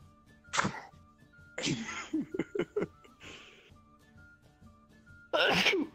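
A single sneeze breaks in with a sharp burst, surrounded by brief laughter and quiet, breathy voices nearby.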